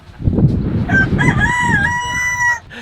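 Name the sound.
rooster crowing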